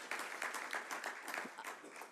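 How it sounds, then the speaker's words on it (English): Audience at a city budget presentation to the Nashville council applauds for Talia, a quiet, steady patter of many hands at some distance that carries on evenly for a couple of seconds. "you can clap for Talia."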